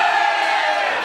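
A live audience roars with dense, sustained cheering and whooping that stays loud and steady throughout, with no single voice standing out.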